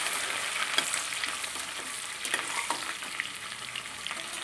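Green chillies and onion sizzle steadily in a hot pan, a continuous frying hiss broken by light scraping stirs, close and alone without any talk.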